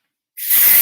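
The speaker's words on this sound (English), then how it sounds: "Okay, spray clay." Spray clay is misted underneath the hair to add volume: one sharp, close spray hiss that starts abruptly and holds steady, loud and alone.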